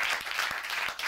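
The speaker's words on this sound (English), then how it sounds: "A round of applause for our Academy Award" Audience applause for an Academy Award winner at a magic show: a dense, steady wash of clapping from a crowd, moderately loud and continuous through the brief moment.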